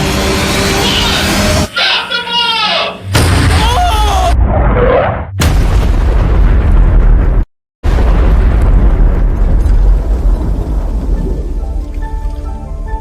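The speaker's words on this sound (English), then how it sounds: "Using our last bit of spare fuel, the pyrotechnics quickly re-rigged the bomb" Fuel bomb rigged by pyrotechnics going off, a loud sustained roaring blast that follows a stretch of busy, mixed noise and talk, then slowly tails off into crackling rumble.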